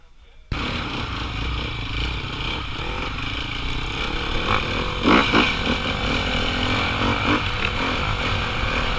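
A 2020 Sherco dirt bike engine in race mode, revving loudly and continuously on a gravel course, with people talking over the throaty drone.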